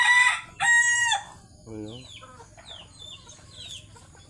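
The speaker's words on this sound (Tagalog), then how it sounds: "Yung manok na labuyo." A wild red junglefowl crows loudly twice near the start, followed by softer clucks and chirping birds, with a brief voice speaking.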